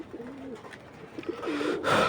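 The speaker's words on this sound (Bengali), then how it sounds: "এই যে কবুতরগুলো এখন ওরা বিশ্রাম নিচ্ছে" Pigeons resting in the sun after bathing, giving soft, close, rolling coos in short phrases, ending with a brief rustle.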